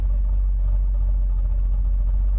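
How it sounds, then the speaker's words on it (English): A 1963 Chevrolet Corvette Split Window Coupe engine runs steadily at low RPM with a deep, loud, rumbling idle and a little throttle held to keep it from dropping. The sound is close and continuous, with no talking. "Just give a little gas, keep the RPMs from going too low."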